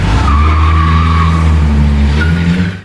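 Car tires squeal continuously as a car speeds off in a film chase, a loud sustained skid over a low engine roar that cuts out abruptly at the end.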